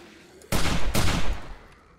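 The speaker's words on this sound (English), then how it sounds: "incendiary shotgun rounds?" Incendiary shotgun rounds fired in a zombie horde shooter, two loud, close blasts about half a second apart, each with a crackling roar that trails off.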